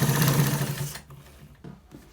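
A sewing machine runs loud and close for about a second, stitching lace into a trouser waistband, then stops, leaving a few faint clicks and short bursts of handling.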